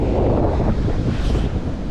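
Strong wind buffets the microphone at a beach during a late-afternoon surf session, a steady loud roar with surf wash underneath and no break for the whole stretch.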